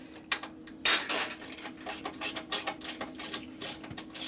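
A hand ratchet clicks in quick bursts as bolts are tightened on a 2011 Harley-Davidson Road Glide twin cam, close and crisp, with a steady low hum underneath.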